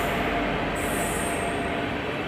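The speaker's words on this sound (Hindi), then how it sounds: "और अब हमारी ट्रेन को क्रॉस कर रही है train number 12183 Bhopal Pratapgarh superfast express" A passing superfast express train, the Bhopal–Pratapgarh service, rushes by an onboard Humsafar Express in India, a loud steady rumble of wheels and wind with a thin high squeal rising partway through.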